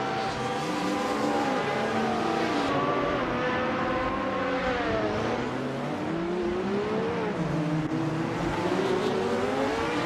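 A 1982 Ford C100 Group C race car and rival cars roar through a racing game, engines revving and shifting continuously up and down in pitch, loud and close for the whole stretch.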